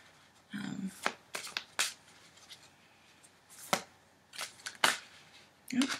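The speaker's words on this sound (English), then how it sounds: "I was just shuffling" A deck of tarot cards is shuffled by hand in irregular bursts of crisp riffles and slaps, close and fairly clear, separated by short pauses.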